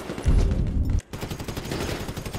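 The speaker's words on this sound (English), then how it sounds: "So I guess we're shooting our way out of here!" Gunfire in Grand Theft Auto V during a heist shootout: a dense, loud burst of rapid shots, briefly cutting out, then continuing as quieter rattling fire.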